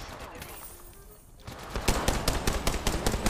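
Rapid gunfire from a weapon in the video game Apex Legends Mobile, a fast string of loud shots starting partway through after a quieter stretch.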